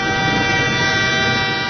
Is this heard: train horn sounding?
yes